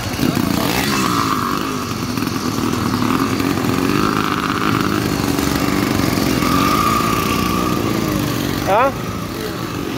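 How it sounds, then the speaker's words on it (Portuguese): A motorcycle fitted with a turbo kit runs steadily and loud, its engine drone holding throughout with a whine, and a brief rise near the end, while voices talk over it. "O kitzinho turbo da Mônica aí, ó."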